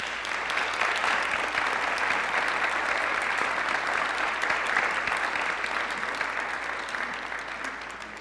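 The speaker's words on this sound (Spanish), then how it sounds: "Un aplauso." An audience at a university forum on the National Action Party gives loud, sustained applause, a dense wash of clapping that holds steady for about eight seconds before easing slightly.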